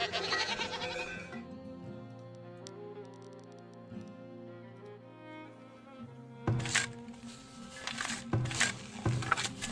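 Goats bleat in a Farthest Frontier farming settlement, several wavering calls rising over a soft musical background, moderately close, with a few sharper bleats near the end.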